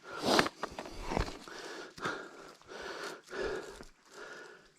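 Heavy, labored breaths from a hiker who has just climbed uphill on the Ouachita Trail, heard as close, rhythmic inhales and exhales with faint footsteps and a gasp near the start.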